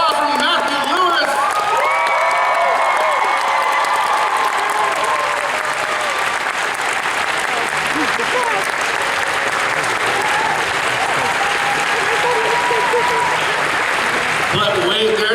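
Sustained, loud applause from a convention audience welcoming Matthew Lewis, Neville Longbottom actor from the Harry Potter films, at DragonCon 2021, with scattered whoops and shouts mixed into the steady clapping throughout.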